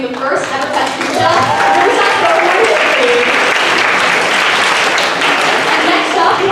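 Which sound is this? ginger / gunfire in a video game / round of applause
round of applause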